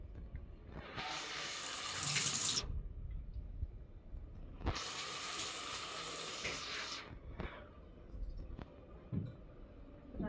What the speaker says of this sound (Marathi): आता पाणी टाकते